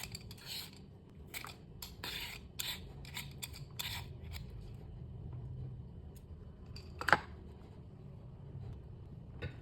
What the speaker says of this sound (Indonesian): Kemudian aku mau kupas dulu kulitnya, karena kulitnya ini agak keras.